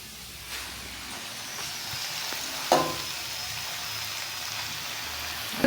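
Noodles tossed and stir-fried in a pan with sautéed vegetables and soy sauce give a continuous soft sizzle. A sharper clatter comes midway as they are turned, with light scraping around it.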